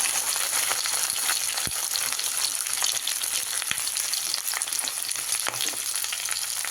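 Dried elephant apple (chalta) slices fry in hot tempered oil for a pickle, giving a steady, close, dense sizzle with a few sharp pops and spatters. No one speaks.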